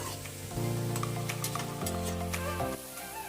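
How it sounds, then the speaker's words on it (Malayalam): Onion, shallots, garlic, ginger and fennel seeds sautéing in hot oil for goat liver fry, with a steady close sizzle and a low hum underneath for about three seconds. "പിന്നീട് നമ്മൾ ചതച്ച് വെച്ചിട്ടുള്ള ചെറിയ ഉള്ളി, വെളുത്തുള്ളി, ഇഞ്ചി, പെരിഞ്ജീരകം അതുകൂടി അതിലേക്ക് ചേർത്ത് നന്നായിട്ട് വഴറ്റി കൊടുക്കാം."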